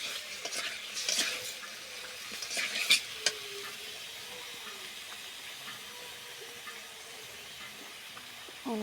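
Mutton stirred and fried in a pan while being cooked down for kosha, giving a steady soft sizzle with clattering stirring strokes near the start and quieter frying afterward.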